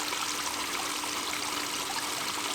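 Water washes steadily through a small gold cleanup sluice lined with hog matting and a washer mat, a continuous close rushing trickle with no talking.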